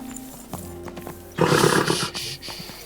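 A horse whinnies loudly in the middle of Kingdom Come: Deliverance II DLC gameplay, a broad burst rising over softer stamping and background game sounds, then fading out.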